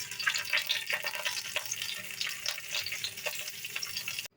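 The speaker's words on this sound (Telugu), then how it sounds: "నెయ్యి వేడైన తర్వాత తాలింపు గింజలు వేగిన తర్వాత ఎండుమిర్చి," Spices, red chilli, curry leaves and asafoetida sizzle in hot ghee for a tempering, a steady close crackle with small pops throughout before cutting off abruptly at the end.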